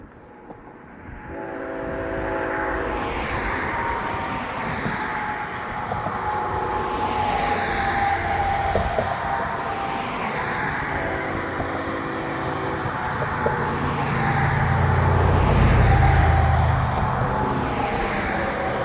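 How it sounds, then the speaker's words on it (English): FEC freight train sounding its horns at the Palmer Street crossing, long sustained horn blasts heard from a distance and carried by the wind, over a steady rumble of rail cars that swells louder near the end, no talking. "we'll get one more set of horns here at Palmer Street"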